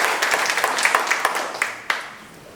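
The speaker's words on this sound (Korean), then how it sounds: "뜨거운 박수로." Audience applause at a Korean book launch ceremony, a short burst of scattered hand claps from a modest crowd that quickly thins out and fades.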